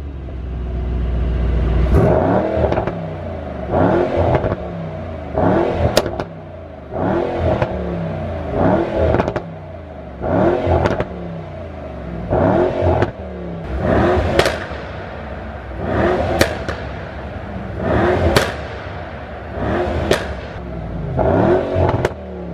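A 2018 Mercedes-AMG E63 engine with the standard AMG exhaust is blipped again and again in a steady rhythm, each rev ending in sharp pops and bangs, loud and close.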